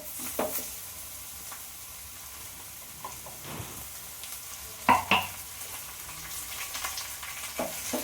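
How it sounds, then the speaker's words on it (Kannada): Onions fry in hot oil in a pan, a continuous sizzle broken by a few sharper crackles and stirring scrapes midway, steady and close with no one speaking. "ಮತ್ತು ಇದು ಈರುಳ್ಳಿನೂ ಸ್ವಲ್ಪ ಫ್ರೈ ಆಗುತ್ತೆ"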